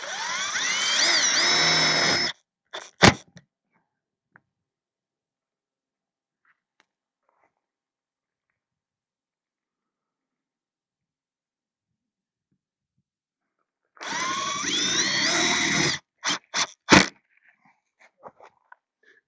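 A power drill drives a screw during a camper van build, with two separate whirring bursts of about two seconds each, each followed by short clicks and taps, separated by a long near-silent gap.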